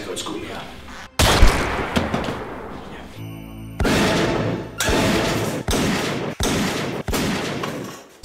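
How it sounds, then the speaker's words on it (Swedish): Several sharp gunshots ring out one after another, loud and close, with short gaps between them and a noisy, echoing background. "Jag kan ta ett skott också för säkerhets skull"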